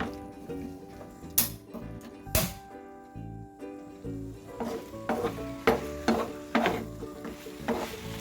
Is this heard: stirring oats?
yes